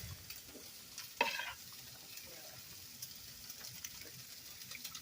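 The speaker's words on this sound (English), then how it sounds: "Give it a good stirring." Gumbo mixed with Heinz Homestyle Gravy is stirred in a pot, a faint, soft scraping and sloshing with one sharper knock of the spoon near the start.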